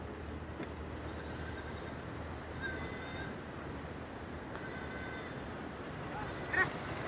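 Sheep bleat in short bursts out in the Uttarakhand hills, a few thin calls rising over a steady outdoor hiss, with one sheep caught in thorny bushes.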